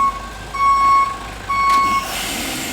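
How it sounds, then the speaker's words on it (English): A delivery lorry manoeuvres outside a chateau, its reversing alarm sounding two loud steady beeps over a low engine rumble, followed by a hiss like an air brake. "There's the other half of the lorry."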